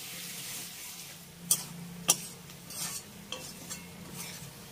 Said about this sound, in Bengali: এবার আলু আর পেঁয়াজটাকে ভালো করে ভেজে নেব।